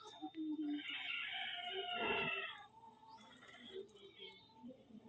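A native chicken calls loudly and close by in an outdoor rural cooking area, with a drawn-out crowing cry over faint background voices and farmyard ambience.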